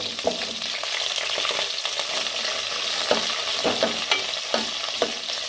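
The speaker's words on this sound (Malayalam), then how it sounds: "ഇനി ഒരു നാല് വെണ്ടയ്ക്ക മുറിച്ച് വെച്ചിട്ടുണ്ട് അതങ്ങോട്ടിട്ട് ഇട്ട് കൊടുക്കാം" Cut okra frying in a pan for a Kerala sambar with shallots, a steady close sizzle broken by repeated scraping strokes of the spoon as it is stirred.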